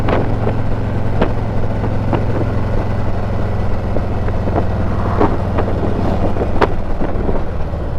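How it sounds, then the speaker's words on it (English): A motorcycle engine idles unevenly with its EITMS active, giving a steady low rumble under wind buffeting and faint clicks, with no speech. "I can hear the weird idle"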